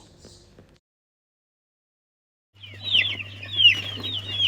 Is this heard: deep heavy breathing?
no